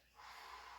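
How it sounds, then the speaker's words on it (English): A single deep exhale through the nose during a hip flexor stretch, a soft airy breath that swells after a short pause and holds steady, close and quiet, with no talking. "deep breath out"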